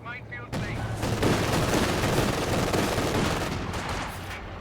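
Sustained machine gun fire from MG42 and Maxim guns in a World War II strategy game, a dense continuous rattle of rapid shots with booming impacts, loud and close throughout, with a brief quieter lead-in before the firing starts.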